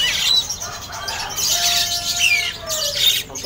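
Caged birds at Pramuka bird market chirp and whistle continuously, overlapping high tweets and a few longer whistled notes, close and lively with no talk.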